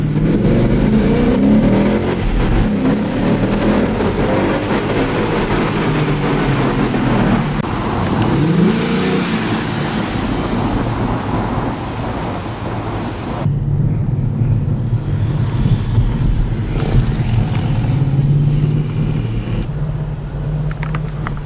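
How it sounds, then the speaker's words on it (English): A Ford Mustang GT with a naturally aspirated V8 drives under sustained throttle, and the engine roar and road noise are heard from inside the car. Partway through the tone shifts to a lower, steadier drone, with wind noise throughout. "It's very responsive since it's a naturally aspirated V8."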